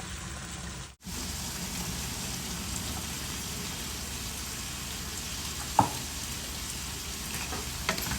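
Chickpeas frying with spice masala in ghee, a continuous sizzle with faint stirring, broken by a brief dropout near the start and a sharp utensil clink later on, with no talk.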